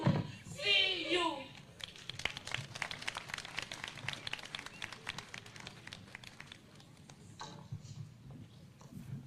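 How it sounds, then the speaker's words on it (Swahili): An audience claps at an International Albinism Awareness Day event in Uasin Gishu County, with a brief voice at the start followed by several seconds of scattered, moderately distant clapping that thins out. "Tuwapigie makofi tena wanapomalizia sasa sehemu ya entertainment"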